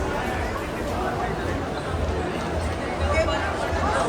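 A busy New Year crowd inside Vegas Mall makes a dense, steady murmur of chatter and footsteps all around, with a person speaking close by.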